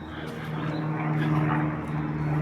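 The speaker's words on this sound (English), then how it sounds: "There's an airplane going over." An airplane passes overhead in an outdoor park setting near a forest open-air theatre in Sopot, Poland, a steady low engine drone holding throughout with a faint swell, no talk.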